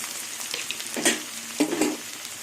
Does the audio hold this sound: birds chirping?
no